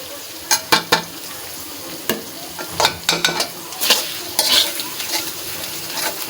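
Chicken with ginger-garlic paste, chili powder, turmeric and salt sautés in a pan, with frequent sharp scrapes and clacks of a spatula stirring over a continuous close sizzle.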